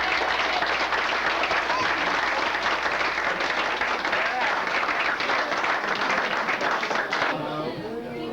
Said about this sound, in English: if everybody could give them a nice round of applause